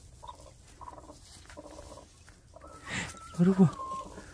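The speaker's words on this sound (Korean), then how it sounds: "무슨 병아리 소리가 들리는데?" Faint, high chirping peeps from newly hatched chicks repeat in short bursts, near and soft, with a person's voice briefly rising over them.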